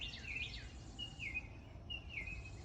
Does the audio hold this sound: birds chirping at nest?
yes